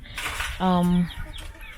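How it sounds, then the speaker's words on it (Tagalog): A chicken gives a single loud, drawn-out cluck close by, kept by a typhoon-hit family in the Philippines, with rustling ambient noise around it. "this is her chickens that she sometimes sell and sometimes they consume"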